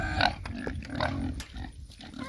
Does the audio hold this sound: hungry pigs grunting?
yes